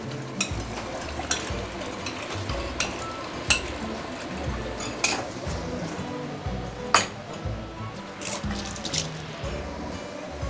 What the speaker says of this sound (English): I'm going to add in some diluted coconut milk.